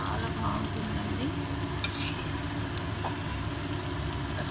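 Potatoes frying in a pan for a Telugu-style potato fry, giving a steady, close sizzle with faint stirring scrapes and a low hum in the background.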